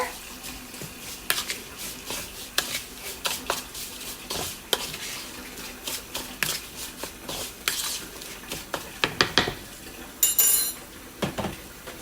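Italian cheese and panko breadcrumbs tossed together in a bowl for an asparagus casserole, a run of soft scraping and light clinking taps, quiet and close, with no voices.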